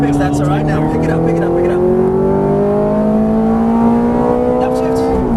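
Ferrari F430 pulling out of a corner on a track, a loud engine note rising steadily as it accelerates, with someone talking over it from inside the car.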